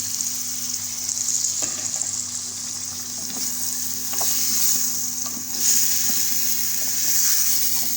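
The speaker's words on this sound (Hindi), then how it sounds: "अब ये टमाटर और प्याज बहुत अच्छे तरीके से हो गए हैं तो अब मैं इसमें ये आलू डालूंगी।" Potatoes fry in a pan of cooked-down tomatoes, onions, garlic and ginger, giving a steady close sizzle with occasional stirring scrapes throughout, no talking.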